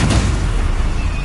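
A Confringo fire spell explodes in the Hogwarts Legacy video game, a dense, rumbling burst that fills the whole moment with a steady, heavy roar and no distinct separate blasts.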